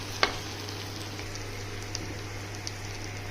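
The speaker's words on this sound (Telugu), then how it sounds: "ఇదిగోండి వేగుతుంది, బాగానే వేగుతుంది." A cashew and drumstick curry fries in a pan with a steady, moderate sizzle and a faint crackle, a single sharp clink near the start, and no talk over it.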